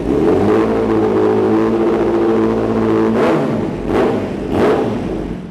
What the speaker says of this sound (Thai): สตาร์ทติดง่ายครับ รอบเดินเบาดิ้งกับตาเร่ง